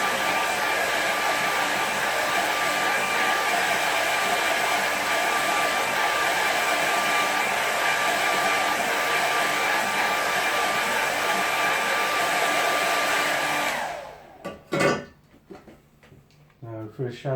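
Hair dryer blowing steadily on a watercolour painting, a loud continuous whirring hiss lasting about fourteen seconds before it is switched off, followed by a few clicks and handling knocks.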